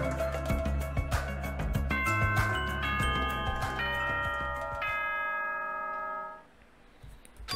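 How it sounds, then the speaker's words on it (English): A school bell chime in the video game Danganronpa 2 rings out as a descending and rising sequence of bell-like tones over background music, loud and clear before fading to quiet. "Was that a school bell just now?"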